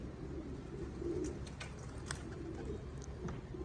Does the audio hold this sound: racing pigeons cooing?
yes